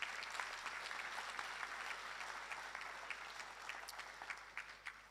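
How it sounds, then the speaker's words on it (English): Sustained applause from a graduation ceremony audience fills the hall, steady and fairly distant, with no talking over it. "Let's give them a round of applause as well."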